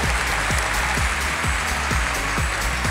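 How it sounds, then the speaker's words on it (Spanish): A live comedy show crowd at Gran Arena Monticello claps, steady applause from the audience underlaid by a regular, pulsing low beat running through the whole stretch. "¡Aplausos de todo el público!"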